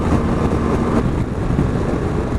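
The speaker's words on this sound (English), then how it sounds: "It's just rattling away like a truck engine, like a dirty old diesel." A BMW R1200 GS motorcycle engine runs with a loud, rough, continuous clattering rumble like a dirty old diesel, close up and without voices.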